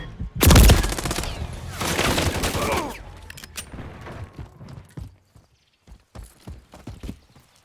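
Gunfire in the Call of Duty video game, a loud close burst of shots at the start and a second volley, then scattered sharp pops that fade into quieter intermittent bangs.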